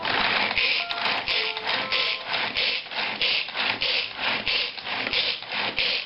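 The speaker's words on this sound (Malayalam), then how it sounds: "ചെറുതായിട്ട് ചോപ്പ് ചെയ്യും. അല്ലെങ്കിൽ ചെറുതായിട്ട് കൊത്തി അരിഞ്ഞാലും മതി." Beetroot finely chopped with a chopper, giving rhythmic, rasping strokes repeating about twice a second, close and steady with no voices.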